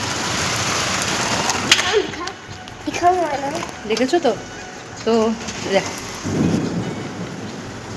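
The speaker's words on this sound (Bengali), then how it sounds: "দেখো কত বৃষ্টি, দেখানোর চেষ্টা করছি, ঝড় আর বৃষ্টি।" Heavy evening rain in a thunderstorm pours in a steady roar, with a low rumble of thunder near the end while voices talk over it.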